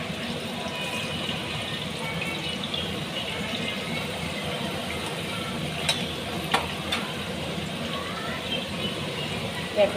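Pumpkin pieces fry in hot oil with a steady, moderately loud sizzle and bubbling, broken by a few light utensil clicks, while a voice is faintly present in the background.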